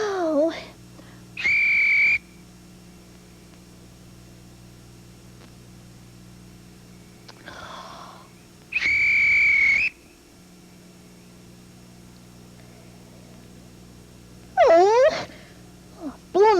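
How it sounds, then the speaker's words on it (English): A whistle is blown twice, giving two steady, shrill blasts about seven seconds apart, each lasting roughly a second, between quieter squeaky and sighing sounds. "I've blown my whistle twice."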